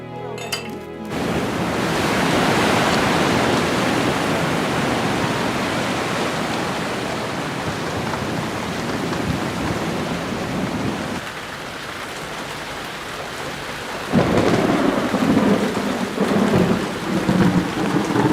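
Heavy rain pours down steadily with a deep rumble of thunder rolling underneath, the downpour growing louder near the end.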